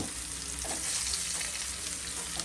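Eggs frying in a pan with salt, turmeric and chilli powder for fried egg biryani, a continuous close sizzle with faint scraping, steady and alone without speech.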